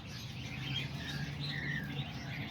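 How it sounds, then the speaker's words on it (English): Homing pigeons in their loft give a low, continuous cooing murmur with faint rustling, heard close and soft. "But yeah, there's all the pigeons right there."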